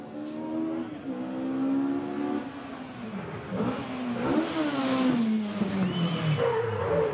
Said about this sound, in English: if an Audi Quattro makes a great, iconic noise in rallying, so does an Escort Mark II